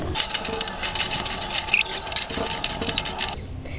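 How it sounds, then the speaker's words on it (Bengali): Potatoes being hand-mixed with garlic paste, turmeric and salt, a soft continuous wet squishing and patting, close and fairly quiet, with no voices. "এর জন্য প্রথমে আগে আলুটা ভালো করে মেখে নিয়ে তারপরে পুঁই শাক দেবো"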